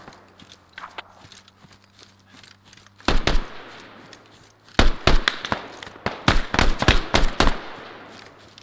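Gunshots ring out nearby in the tactical shooter game Squad, a string of sharp loud cracks in irregular clusters after a quieter stretch with faint distant pops and a low engine-like hum.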